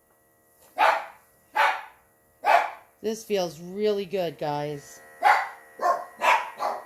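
Dogs bark in loud, close, evenly spaced single barks, stop while a person talks, then resume barking afterward.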